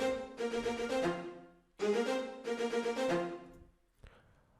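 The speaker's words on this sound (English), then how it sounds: "this sound was actually selected from a plugin called Roland XRX Orchestra, and we're using the strings marcato" Marcato strings from the Roland XRX Orchestra plugin play two loud, punchy phrases of short accented chords with a brief gap between them, then a quick tail at the end.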